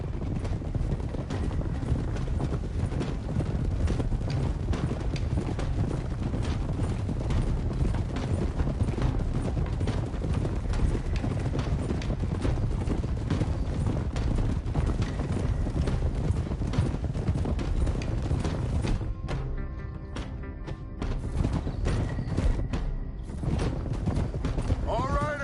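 Horse hooves galloping in the video game Red Dead Redemption 2, a steady rapid clip-clop of several horses with creaking tack, continuous and close, easing briefly near the end before resuming.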